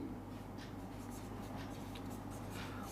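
Marker or chalk writing on a board during a Class 12 maths lesson, a steady scratchy stroking with short bursts over a constant low room hum, no voices.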